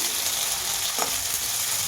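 Tomatoes frying with ginger and chillies in a pan over medium flame for an egg curry, a constant close sizzling hiss with one brief stirring scrape, no talking.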